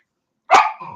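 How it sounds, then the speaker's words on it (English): A dog gives a single short, sharp yelp while scratching itself, close and loud after a moment of silence, tailing off into a fainter whimper. "That's our dog. He scratches himself and he yelps."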